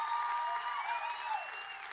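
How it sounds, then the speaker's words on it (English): Graduation audience at a community college commencement ceremony applauding, a soft, steady wash of clapping with a thin whistling tone gliding over it, heard from a distance. "give a round of applause to your spouses and significant others and family and friends"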